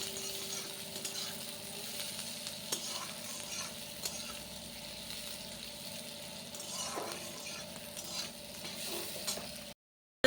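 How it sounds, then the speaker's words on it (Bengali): Onions with ginger fry in oil in a pan, giving a quiet, steady sizzle with soft scraping stirs throughout. The sound cuts off abruptly near the end. "পেঁয়াজটা ভালো করে ভেজে নিয়ে"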